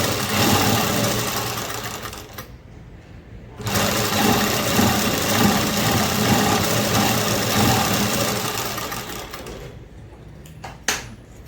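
A sewing machine stitches fabric lining in two steady runs of fast, even motor whirring and needle clatter, broken by a short pause, close up with no talking.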